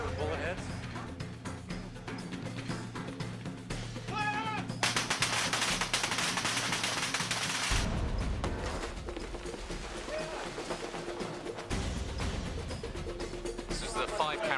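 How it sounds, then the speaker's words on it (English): Film special effects on a movie set: three staged explosions, each a gas bomb followed by a water bomb with bullet hits, heard as dense bursts of rapid popping and loud roaring blasts. "a series of 3 explosions, each one starting with a gas bomb and ending with a water bomb with bullet hits"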